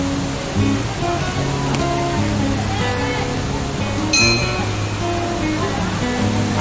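A polluted river beside the Basistha temple, where people bathe and wash clothes, flowing in a steady, loud broadband wash that continues throughout under voices and tonal music.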